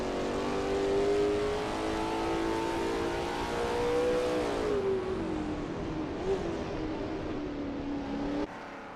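A Lola T70 MkII Spyder race car roars at Willow Springs raceway, its engine holding a loud, close, sustained drone whose pitch rises and dips slightly as the car runs, briefly easing off near the end.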